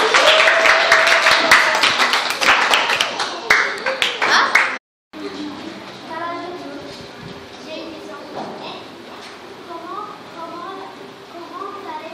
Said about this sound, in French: Excellent, applaudissez les deux.